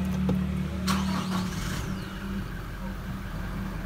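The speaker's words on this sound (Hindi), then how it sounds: "अब आपको इस गाड़ी का स्टार्टअप चेक कराता हूँ" A 2021 Toyota Hilux Revo V pickup engine cranks with a brief burst, then settles into a steady, low idle hum close by.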